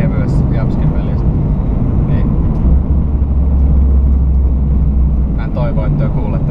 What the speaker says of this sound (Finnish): Tää on aika kova ääninen tää auto